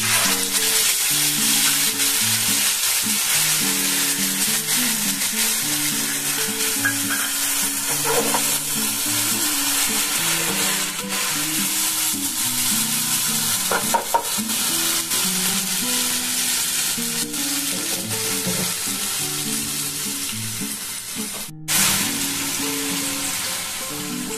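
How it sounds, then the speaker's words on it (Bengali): Ground spice paste for an egg curry fries steadily in a pan over very low heat, a continuous close sizzle with occasional stirring scrapes throughout, no voices. "মশলাটাকে দেখুন আমি ভেজে দেবো।"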